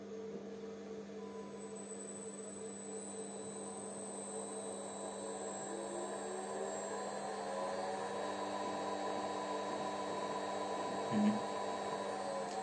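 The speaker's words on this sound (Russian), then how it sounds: "Как можете наблюдать, скорость привода изменяется." An electric motor drive run from a frequency converter hums steadily with a sustained whine and tonal bands whose pitch gently shifts as the speed changes, a constant mechanical drone with no talk.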